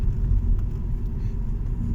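A 2002 Alfa Romeo with V6 Lusso trim cruising along country lanes near Winchester on a warm day, a steady low engine and road rumble heard from inside, even and continuous with no talk.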